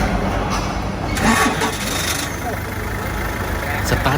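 A road construction vehicle's engine turns over and runs after being jump-started with a SPARK JS21 12V jump starter. The continuous rumble stays loud and near throughout, with voices audible at times.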